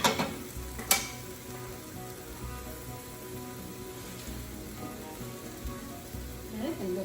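Mushrooms fry on a back burner while a pita-bread pizza is being prepared, giving a steady low sizzle under the kitchen with a couple of sharp clatters near the start.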